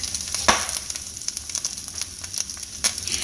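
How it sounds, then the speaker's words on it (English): Eggs fry in a generous amount of butter in a pan, giving a steady close crackling sizzle with sharp pops and spits scattered throughout. "So I'm making my fried eggs the way my daughter Emily does. She likes to put lots of grease in the pan, so I put some more butter"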